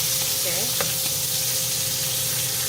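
Shrimp sizzles and fries steadily in a pan for pad thai, a continuous crackling hiss with a brief stir or clink early on, close and moderately loud.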